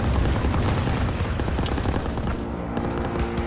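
Heavy gunfire and machine guns in Call of Duty WWII, loud dense overlapping bursts of rapid shots and booms filling a chaotic battle without pause.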